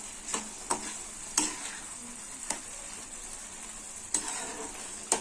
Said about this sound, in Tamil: நல்லா ஒரு கொதி வரணும். அப்பதான் கடலை மாவு வேகும்.